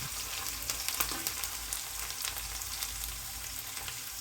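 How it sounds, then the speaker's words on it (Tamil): Crushed garlic fries in hot oil with a continuous, close, crackling sizzle, dotted with small pops and faint stirring. "கொஞ்சம் நல்லா கோல்டு கலர் ஈரம் போகிற அளவுக்கு வறுத்து எடுத்துக்கிறோம்."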